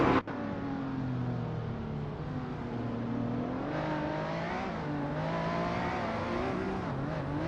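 Steady high-revving engine drone of a 2009 Mercedes-Benz SLS AMG in a video game race, a sharp knock at the start, then constant loud whine with shifting pitch as it accelerates and changes gear, no talk.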